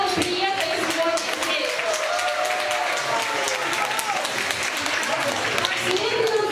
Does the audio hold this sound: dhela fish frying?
no